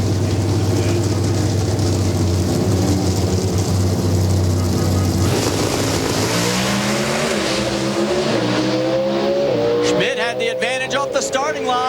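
A Pro Stock drag race car at a national event, a loud continuous engine roar that climbs in pitch through rapid gear changes and fades toward the end, with commentary running over it.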